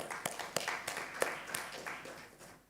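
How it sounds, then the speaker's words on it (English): At an evaluation summit, a small audience welcomes a speaker with sparse, faint, irregular handclaps that thin out toward the end. "Yeah, round of applause."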